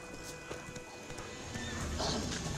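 A horse neighs and its hooves clop in The Witcher 3, a short whinny over steady hoofbeats and a busy game background, fairly faint and mid-distance.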